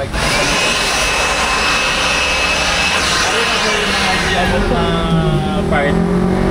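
A Makita blower roars steadily and loudly as it dries a soaking-wet bike wash area, with a sustained high whine throughout and people talking over it.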